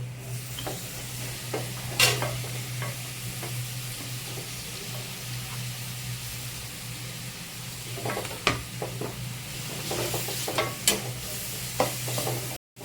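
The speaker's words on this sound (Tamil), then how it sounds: "பூண்டு ரெண்டு எடுத்து வச்சுருக்கேன் அதையும் போட்டு வதக்கிடுவோம்" A low, steady sizzle of onions and garlic sautéing in a pan, with occasional scraping and stirring clicks throughout.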